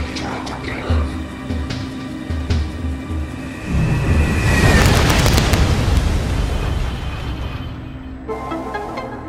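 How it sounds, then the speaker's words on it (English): Morph ball bombs detonate in Metroid Prime 3, building into a dense rumbling blast in the middle of the stretch over game music and effects, then fading away. "quickly go into your command visor and bomb the living crap out of this area"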